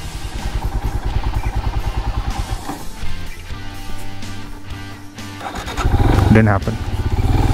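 Motorcycle engine labouring uphill on a mountain road through clouds, a steady throbbing drone that swells and revs harder near the end, with a rider talking briefly over it.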